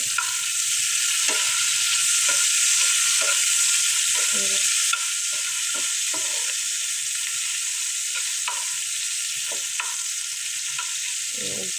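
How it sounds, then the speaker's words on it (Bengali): Steady, loud sizzling of chicken frying in a pan, with intermittent scraping and stirring clatter throughout. "মুরগি কিন্তু ভাজা হয়ে গেছে"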